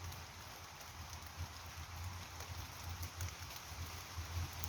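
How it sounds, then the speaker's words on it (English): Steady, dense rain hiss fills a woodland without a break, with a low rumble beneath and no voices. "it's raining quite heavily now."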